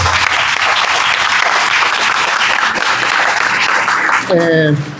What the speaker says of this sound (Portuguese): Queria pedir uma salva de palmas a Esteban, por favor.